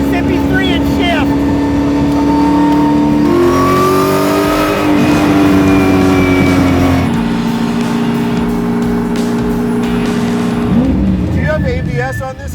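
A 700 hp modified Chevy C5 Z06 Corvette engine held at high revs near 7,000 RPM, a loud sustained drone that rises and dips through gear changes, with voices talking over it inside the car.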